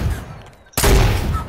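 Gunfire in the Fortnite video game during a sniper exchange: a quieter stretch of game sound, then a sudden loud shot followed by a booming, sustained roar of fire with a rumbling low end.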